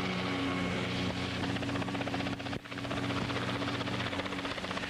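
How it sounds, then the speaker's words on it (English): A Scheutzow Bee utility helicopter in flight gives a steady, loud rotor and engine drone that runs unbroken for the whole stretch, with only a brief dip partway through and no voices. "Wherever a utility helicopter is needed, the bee can serve efficiently and inexpensively."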